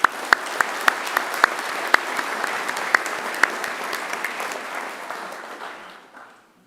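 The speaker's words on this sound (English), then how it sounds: "A round of applause for Nushin" Applause from an audience at a Macquarie University graduation ceremony, a steady burst of many hands clapping with a few sharp near claps standing out, fading away over the final second.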